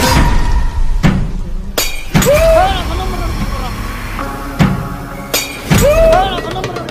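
Glass is struck hard and shatters several times at night in an empty school: loud sharp cracks, each followed by ringing, tinkling shards, against a noisy, rumbling background.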